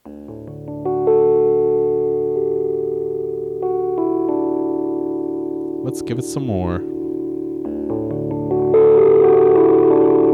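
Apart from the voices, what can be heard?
piano through high-gain overdrive pedal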